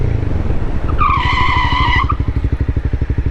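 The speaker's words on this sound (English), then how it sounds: "You'll probably see my bike fishtail a little bit, because that's what happens when you're on the rear brake." A motorcycle's rear tire skids under hard rear braking, with a high squealing screech lasting about a second over the bike's close, pulsing engine rumble that keeps chugging after the skid.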